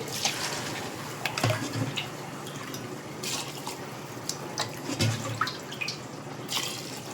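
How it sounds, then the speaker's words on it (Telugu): Water splashes and trickles into a cooking pot for prawn biryani, with a few clinks and drips scattered through a steady, fairly quiet pour. "ఇప్పుడైతే వాటర్ అయితే వేసేసాం కదండి"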